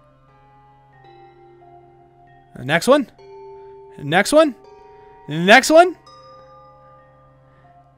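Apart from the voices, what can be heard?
bells being whacked in the video game Sisyphus Reborn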